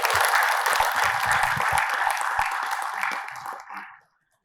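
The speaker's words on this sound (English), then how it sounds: "A big round of applause" Steady applause from an audience at an award event, a dense patter of many hands clapping that holds for about three seconds and then tapers off quickly to silence.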